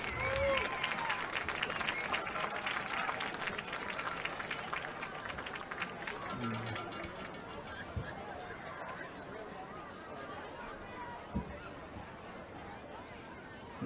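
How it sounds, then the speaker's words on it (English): A stadium crowd at a high school football senior night applauds the band members with steady, far-off clapping and cheering that fills the whole stretch, with a voice briefly audible over it. "Let's give all of our band members another big round of applause."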